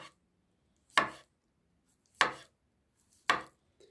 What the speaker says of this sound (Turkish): Mantarımızı jülyen şekilde doğruyoruz.